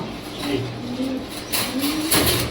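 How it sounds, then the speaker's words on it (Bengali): Pakistani Cobra Teddy pigeons coo steadily and close by at a pigeon house, with low rolling calls over a continuous hiss and some brief rustling noises. "এটা হলো পাকিস্তানি কবুতর কোবরা টিডি"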